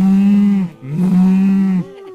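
A cartoon cow in the Hidden Folks hand-drawn game gives two long, loud, close moos with a short break between them. There is no talk.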